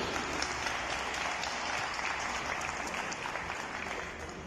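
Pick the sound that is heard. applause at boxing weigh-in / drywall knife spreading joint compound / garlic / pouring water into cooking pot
applause at boxing weigh-in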